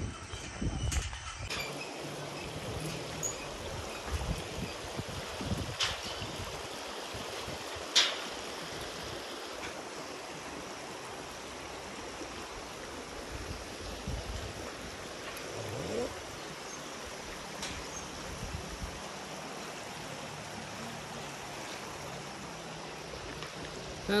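The Kamala river, joined by a tributary stream near a swaying bridge in Sindhuli, flows with a steady broad rushing wash, moderately loud and continuous, with a few faint knocks and distant voices underneath.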